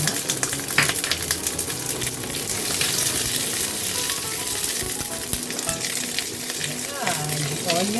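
White onion frying in oil as the base for a Thai green chicken curry, a dense continuous sizzle with stirring clatter and a few faint voices in the background.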